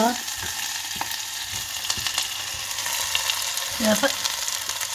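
Loud, continuous sizzling of chilies and onions tempering in hot oil, with occasional stirring clinks and scrapes up close.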